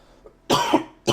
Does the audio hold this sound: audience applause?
no